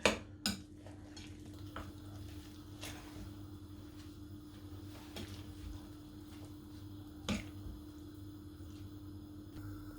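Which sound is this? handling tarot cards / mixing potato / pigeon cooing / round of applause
mixing potato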